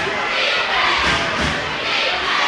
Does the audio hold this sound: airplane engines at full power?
no